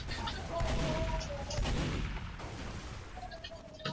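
Shotgun fire in the video game Team Fortress 2: several gunshot bursts spread across a few seconds, loud and close, with in-game noise and tones between the shots.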